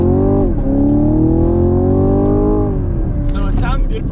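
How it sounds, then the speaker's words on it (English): A stock-exhaust 2022 Chevrolet Camaro LT1 V8 revs hard in a first-gear pull, its loud, close engine note climbing for about two and a half seconds before dropping off into a lower, burbling tone. "we're gonna do a first gear pull just so you guys can hear what it sounds like"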